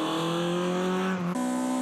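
A Toyota AE86 drift-spec car with a 4A-G engine on FCR carburetors, high-lift cams and about 200 horsepower runs hard on a circuit, giving a loud, buzzing engine note that dips briefly then jumps back up in pitch.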